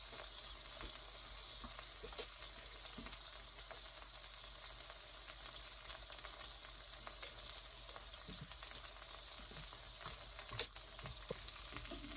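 Birria quesa tacos frying in a pan, a steady, broad sizzle with faint crackles and pops running unbroken throughout, fairly close, with no talk over it.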